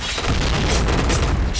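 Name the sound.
grenade explosion in a video game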